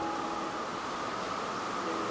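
An ambient recording of steady rain gives a constant hissing wash, with faint sustained chords barely audible in the background throughout.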